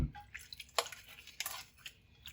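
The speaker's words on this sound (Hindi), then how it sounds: "यहाँ पे नमक खाने का 1 चम्मच ये डाल देंगे और इसको अच्छी तरह मल के धोएंगे।" Food being washed by hand, rubbed with a spoonful of salt and water in a kitchen, giving soft wet squishing and dripping sounds in a few irregular bursts, close and fairly quiet, with no talk.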